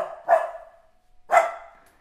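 A dog barks twice, loud and close, the two sharp barks about a second apart with a short ringing tail after each.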